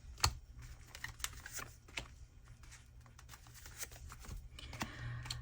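Tarot cards being shuffled and drawn in a quiet room, with soft close flicks, taps and light riffling patter scattered throughout at low volume.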